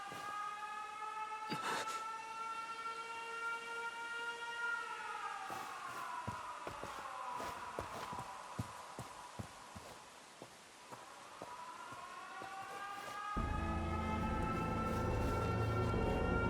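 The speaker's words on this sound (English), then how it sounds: "An air raid. They're trying to bomb the factory." Air raid siren in the video game 13 Sentinels: Aegis Rim, a faint, steady wail of tones that slowly fall and rise again, with a low background rumble coming in near the end.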